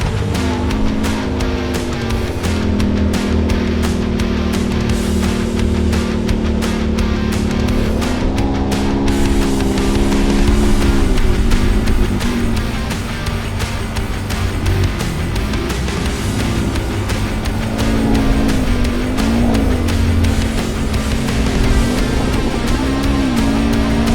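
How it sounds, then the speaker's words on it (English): A 2024 Can-Am Maverick R side-by-side runs close by on Appalachian trails at Hatfield and McCoy, its engine a loud, continuous drone with gentle rises and dips in pitch throughout. "This is a 24 Can-Am Maverick R."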